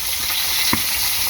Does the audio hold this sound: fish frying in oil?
yes